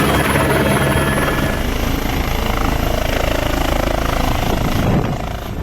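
A helicopter over a populated area in Turkey roars loudly and continuously, its dense rotor and engine noise filling the whole stretch before easing slightly at the very end.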